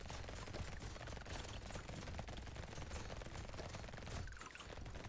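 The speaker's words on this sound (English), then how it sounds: "With double Gatling laser, no way." Double Gatling lasers fire nonstop in the video game Brotato, a dense, loud, rapid rattle of shots with layered crackling impacts, continuous throughout with a brief dip near the end.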